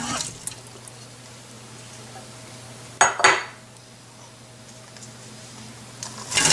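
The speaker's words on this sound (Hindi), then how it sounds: "यहाँ कुकर के अंदर सबसे पहले मैं मीट डालूंगी" Meat going into a pressure cooker for karela gosht, heard as metallic clinks and clatters of a utensil against the pot, with a louder scrape in the middle and more clanks at the end over a steady background hum.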